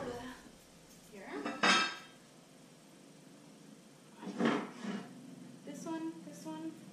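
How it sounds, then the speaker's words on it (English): Clatter of a pie pan being pulled down from among stacked dishes in a home kitchen, a few sharp metallic and ceramic knocks in quick bursts, fairly close, with quiet gaps between. "So I'm going to get down my beautiful pie pan here."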